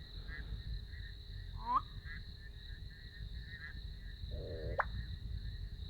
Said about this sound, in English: this handsome fellow, busy displaying on top of an old termite mound, is a black-bellied koran. He has the most fascinating display call as well.